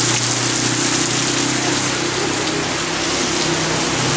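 Rain falls in a steady, unbroken wash of hiss, loud and even from start to finish, with no voices over it.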